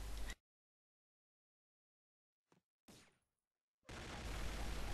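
A FAMAE S.A.F rifle in the shooter game Combat Arms lets off a short burst, then after a silent pause gives two brief cracks and finally a long, loud stretch of rapid automatic fire.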